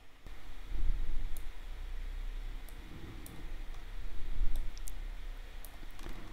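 A computer mouse clicks in drawing software as steel reinforcement bars are selected and moved in a structural detail, with sparse, quiet, sharp clicks spread over a soft background hum.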